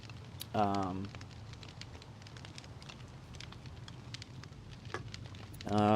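Steady, soft hiss of rain falls in the Slime Rancher game world, a continuous patter running the whole time, with brief voice sounds at the start and end.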